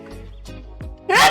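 A single close, loud sneeze bursts out at the end after a few soft mouth and breath noises, recorded indoors on a nearby microphone.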